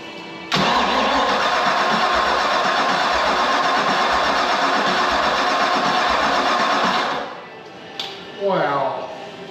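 A Mercruiser 7.4 marine engine cranks and fires, then runs loud and steady close by for several seconds before cutting out; a short restart burst follows near the end.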